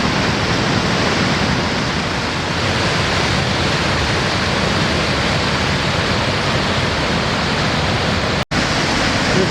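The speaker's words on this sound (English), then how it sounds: "This is the top of Moxie Falls." Moxie Falls on Moxie Stream in northern Maine thunders steadily from its top, a dense, close roar of rushing whitewater that stays constant throughout with no voices.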